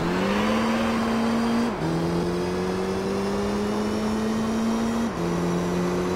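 Race car engines in Gran Turismo 3 on Route 5, a loud, steady engine drone that climbs through the gears, with two brief dips at the shifts.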